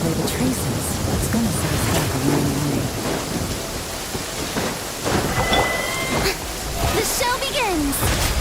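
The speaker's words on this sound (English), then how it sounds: "It's raining again?" Steady rain pours in a video game during a chill stream, with rumbles of thunder rolling through a continuous, full wash of drops while a person talks over it.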